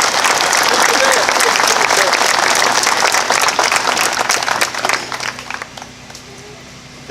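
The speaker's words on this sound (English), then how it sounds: "A big round of applause." An outdoor crowd at the 2018 South Lyon Memorial Day Parade gives the mayor loud, sustained applause that thins out and dies away after about five seconds.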